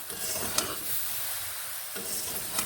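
Jujubes cooked down with jaggery for a sweet-sour pickle are stirred in a pan, giving a continuous close sizzle and scraping hiss with a couple of sharp utensil clinks, no talking.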